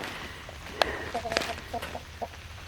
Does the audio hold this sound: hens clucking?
yes